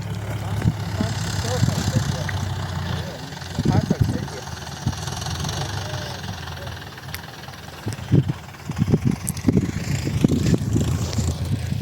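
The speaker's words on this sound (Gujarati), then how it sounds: "સામે ટ્રેક્ટર ચાલે છે" A tractor engine chugs steadily in an open sorghum field with a low, continuous rumble, while voices come and go over it.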